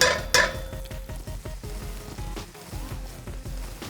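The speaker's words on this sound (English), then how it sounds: "A little bit of butter in the pan, kind of like a medium heat" Vegan butter sizzles in a frying pan over medium heat while fajita quesadillas are being made, with steady crackling, a few utensil clinks and scrapes, and no voices.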